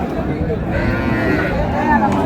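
Sahiwal cows and calves at a busy village cattle market, a low lowing call rising through a dense background of crowd chatter and voices.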